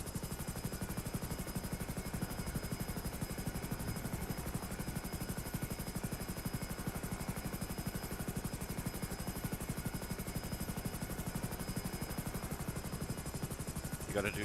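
A video-game helicopter drones steadily for the whole stretch, its rotor giving a fast, even chop over a constant engine whine, loud and unbroken from start to finish.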